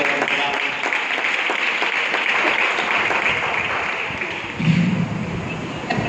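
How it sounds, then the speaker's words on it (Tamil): Congregation members at a special debate event in a Pentecostal church applaud in a steady, moderately loud burst of crowd clapping that lasts throughout, easing slightly toward the end under a brief low voice. "கைத்தட்டி எல்லாரும்."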